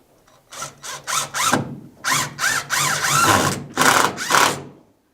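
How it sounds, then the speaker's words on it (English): Screws being driven into a wooden bookcase bed frame with a power drill, a series of short whirring bursts that rise in pitch, some stuttered and some sustained, close and fairly loud. "using 4 of the appropriate screws, you attach to the wooden case as shown here"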